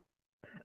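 A single short, close throat clear or cough, brief and alone, with near silence before it.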